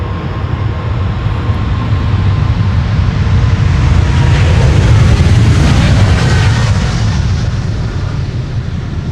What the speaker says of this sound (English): This is KLM flight 705 going to Rio de Janeiro